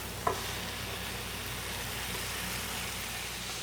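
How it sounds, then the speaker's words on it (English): Browned beef going back into a hot skillet with softened onions, a steady broad sizzle after one brief clink at the start, moderately close and even throughout, no talking. "I'm going to return the beef to the skillet"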